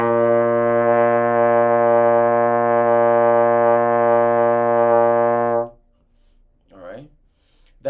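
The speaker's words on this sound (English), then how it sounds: "So some people start on a low sound." Low, steady buzz held on a trombone with mouthpiece for about five seconds, rich and droning before it cuts off, with brief talk just after.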